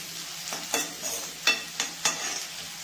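Bitter gourd frying in hot oil while being stirred with a spoon, giving a soft background sizzle broken by four or five sharp scraping stir strokes in an uneven rhythm, close up and with no voices.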